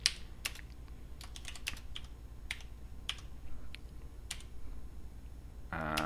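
Quiet, irregular clicking of keys on a computer keyboard, a scattered run of separate taps spread across several seconds, ending with a brief unrelated tonal sound.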